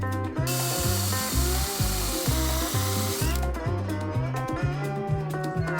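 A power drill bores a test hole for chainplates in a wooden sailboat, revving loudly and continuously, its motor pitch stepping up and down in a rough, repeating pattern.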